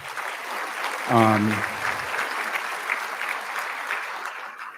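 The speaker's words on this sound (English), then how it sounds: "If you could, let's give them a round of applause" An event audience applauds supporters seated at tables near the front, with steady, moderate clapping that continues throughout while a voice briefly speaks over it.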